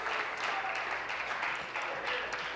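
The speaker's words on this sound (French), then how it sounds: "Merci pour l'applaudissement" Applause in a legislative chamber during question period, a steady patter of many hands clapping at moderate loudness, with faint voices mixed in.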